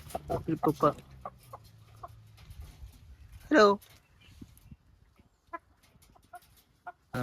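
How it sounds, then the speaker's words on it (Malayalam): A chicken clucks in a village yard: a burst of rapid loud clucks at first, then sparse, fainter single clucks, with a brief spoken greeting in the middle. "കോഴി"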